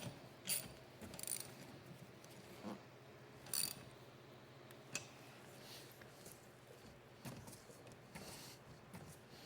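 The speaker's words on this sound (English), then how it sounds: "And then we'll go ahead and tighten the nut back up." Ratchet tightening a nut during a battery swap on a 2013-2019 Ford Escape, heard as a few faint, scattered clicking bursts up close with quiet pauses in between and no talking.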